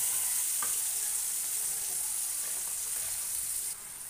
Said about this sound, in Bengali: ভালো করে নেড়ে চেড়ে দেব।